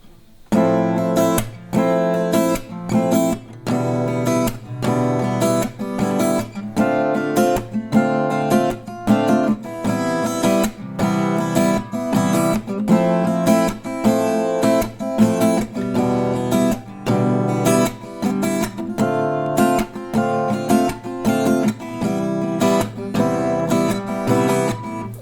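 An acoustic guitar strums a song's chord progression in a relaxed, steady rhythm, dense and continuous for about twenty-five seconds with no talking.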